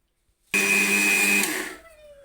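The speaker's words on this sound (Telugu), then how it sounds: "చూడండి, ఇది మిక్సీ పెడతాం" A kitchen mixer grinder switches on abruptly and runs with a loud, steady whirring roar for about a second, then winds down, heard up close with no one speaking.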